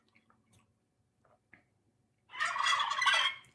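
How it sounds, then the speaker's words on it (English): Real farm turkeys gobble in a burst of rapid, warbling calls near the end, loud and close, after a few faint scattered bird sounds. "get some special turkeys here this year on it. Real turkeys."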